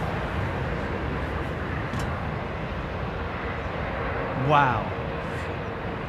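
An airliner takes off at London Heathrow Airport, a steady broad roar of engine noise filling the whole clip, swelling briefly near the end as a nearby voice exclaims.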